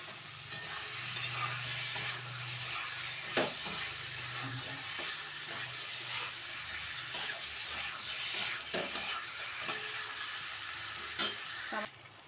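Pointed gourd sizzles in a spice paste in a pan, a steady close hiss broken by occasional sharp clacks of a stirring spoon, with no talk.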